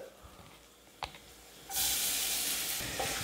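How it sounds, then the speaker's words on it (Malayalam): Crushed ginger and garlic dropped into hot coconut oil, starting with a few quiet knocks before a sudden loud burst of sizzling that holds steady and close to the end. "വെളിച്ചെണ്ണ ഒന്ന് ചൂടായി വരുമ്പോൾ അതിലേക്ക് നമുക്ക് 1 കഷ്ണം ഇഞ്ചി ചതച്ചത് ഇട്ട് കൊടുക്കാം. 5 കഷ്ണം വെളുത്തുള്ളി ചതച്ചത്."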